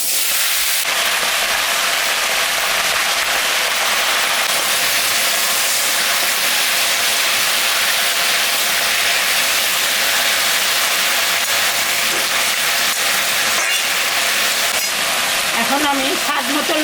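Vegetables are dropped into hot oil tempered with dried red chilli and panch phoron, and a loud, dense sizzle hisses steadily throughout, close up, with a voice speaking faintly over it.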